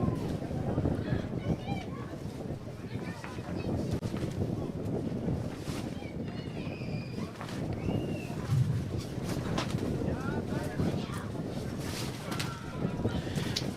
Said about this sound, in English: It's a very, very windy day in Warfish Bay.